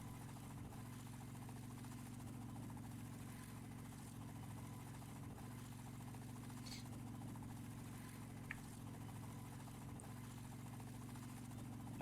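Helicopter engine in the game DayZ, a steady low droning hum with a constant tonal whine that runs evenly throughout, with only a couple of faint clicks.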